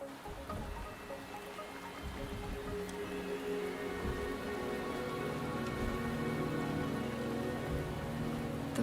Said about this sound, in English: The rain is subsiding,